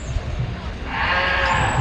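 A sheep bleats at a county fair sheep show over a low rumble and background chatter, the cry swelling and holding steady for about a second.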